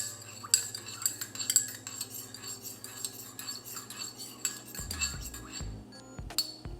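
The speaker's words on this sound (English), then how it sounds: "Now we're gonna hit that 12 times stir." A spoon stirs a drink at home, giving a run of light, repeated metallic clinks against the cup over a low steady hum, fairly close and moderately quiet.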